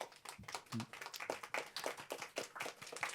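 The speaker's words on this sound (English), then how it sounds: "a warm hand and a warm applause here for you as well" Clapping for a speaker at a public-space design talk, a series of distinct claps from a small group, rhythmic and close, with a brief voice in between.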